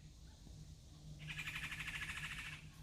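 A bird sings a rapid, trilling call for a couple of seconds over a steady low hum, fairly close and clear against quiet outdoor background.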